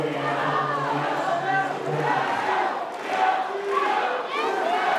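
A crowd in the pool arena at a women's water polo match between Italy and Hungary in Budapest roars and chants in a loud, continuous swell, with a commentator talking over it.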